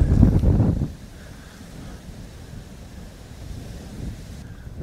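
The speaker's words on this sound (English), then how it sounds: "Just going to let this gust of wind pass through." A gust of wind blows over the water while fly fishing for pike, starting as a loud rough buffet on the microphone and then easing into a steady low rush of wind and surf.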